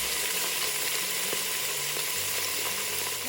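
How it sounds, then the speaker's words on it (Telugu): Onion, potato and capsicum pieces frying in a pan give a steady, soft sizzle with faint crackles, heard alone with no talking. "వీటిని కూడా ఇప్పుడు కొద్దిగా వేగనివ్వాలి."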